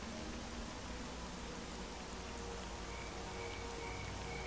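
Steady rain ambience in the video game S.T.A.L.K.E.R.: Call of Pripyat, a constant dense hiss of falling rain with no breaks and no other clear sounds, moderately quiet.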